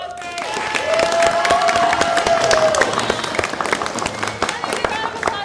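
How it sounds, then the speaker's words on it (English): An audience applauds at a theatre festival night for new works, with sustained dense clapping and some cheering throughout, while a voice speaks over it near the start. "Keep that round of applause going. One more big round of applause for"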